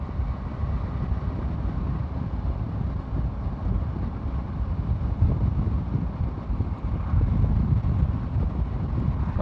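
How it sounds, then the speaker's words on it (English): Steady low wind buffeting a microphone while riding a motorcycle along an exposed mountain road, a continuous close rumble with no talking. "It's a bit windier than I expected it to be up here."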